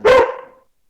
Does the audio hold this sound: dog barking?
yes